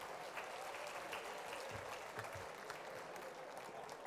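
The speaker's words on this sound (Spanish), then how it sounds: "Unas palmas le daremos a la Hanú." Audience clapping along at a Ladino-language community celebration in Israel, a steady dense wash of hand claps held at an even level throughout, fairly distant with a few louder accents.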